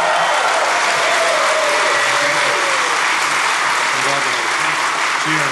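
A DEF CON hacker conference audience claps and cheers for new speakers in a dense, loud, continuous burst of applause, with voices shouting over it.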